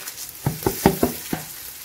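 Whole spices drop into hot oil for a chicken biryani masala, giving about five distinct sizzling crackles and pops spaced across under two seconds, close and moderately loud with no talk.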